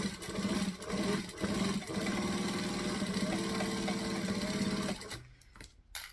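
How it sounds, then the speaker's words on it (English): A sewing machine runs in steady bursts, stitching close along fabric piping for a handle, a loud close rhythmic whirr that pauses briefly between runs before stopping near the end. "I'm just going to stitch as close as I can, which is about 1/8 of an inch from the piping."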